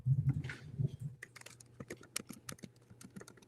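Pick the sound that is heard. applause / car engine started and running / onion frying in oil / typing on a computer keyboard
typing on a computer keyboard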